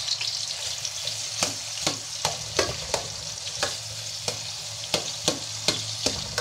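Onions frying in a pan for a Filipino chicken and egg soup, a steady close sizzle broken by sharp, regular scraping clicks as a utensil stirs the pan, with no talking.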